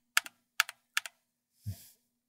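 Three quick computer keyboard key presses, each a sharp double click, sound close and evenly spaced in a quiet room during a tutorial for Vegas video editing software, followed by a short soft thump.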